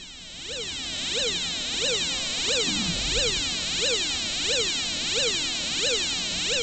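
A loud electronic salt-water detection alarm repeats a rising-and-falling siren-like sweep in steady cycles, piercing and continuous, with a faint low rumble beneath.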